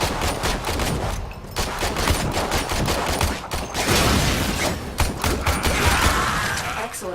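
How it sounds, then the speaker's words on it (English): Loud, dense gunfire rattles continuously in Warframe combat, blade strikes and mechanical impacts mixed into a steady barrage with no pauses. "Attack these targets using blade and gun."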